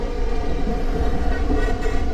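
A South Western Railway class 444 train in Train Simulator 2017 rumbles steadily with a low continuous drone and faint wheel clatter, heard close from the cab without voices.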